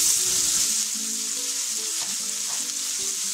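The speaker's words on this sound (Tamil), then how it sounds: "வெங்காயம் கொஞ்ச நேரம் நல்லா வதங்கிட்டோம்." Onions sautéing in oil in a pan, a steady close hiss and crackle of frying with faint stirring scrapes, no voices.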